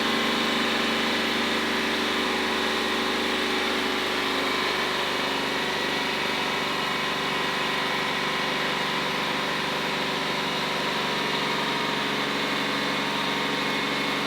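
A Ford AU car engine is held at a steady 3500 RPM, producing a continuous, loud, even drone with a constant pitch and no talking.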